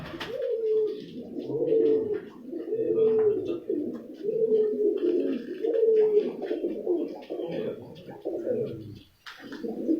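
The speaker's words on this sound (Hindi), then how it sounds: "ये शर्मीले कबूतर" Sharmila breed pigeons kept in pairs on a rooftop coo in a steady, repeating rhythm of soft, throaty phrases, close by and continuous.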